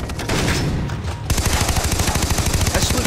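Rapid automatic gunfire from a Far Cry 3 shootout, a dense burst of loud, closely spaced shots that starts partway in and keeps hammering steadily to the end, with a rumbling mix of shots just before.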